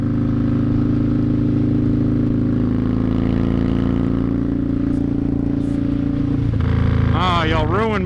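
A Victory Vegas motorcycle cruises in fourth gear at about 75, its engine a loud, steady droning rumble heard up close, with the tone shifting and wind rushing near the end.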